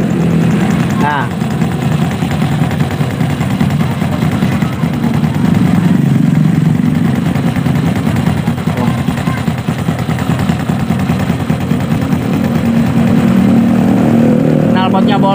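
A Honda Supra motorcycle engine with a holed exhaust runs loud and close, a continuous rough, rattling drone with someone talking over it.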